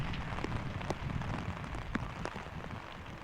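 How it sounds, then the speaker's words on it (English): Steady rain falls during an outdoor girls' high school state championship soccer match in cold, windy weather; a dense, continuous patter with scattered sharper drops, fairly even in loudness throughout, with no voices. "if it's weather like this, rain, cold, wind, that's perfect soccer weather."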